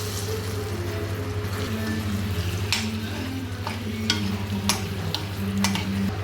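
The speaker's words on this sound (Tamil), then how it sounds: "இப்போ இதில் முட்டையை போட்டு ஃப்ரை பண்ணிக்கலாம்" Eggs frying in a pan for egg biryani, giving a steady close sizzle under a constant low hum, with sharp scraping and clinking stirs at irregular moments; no one speaks.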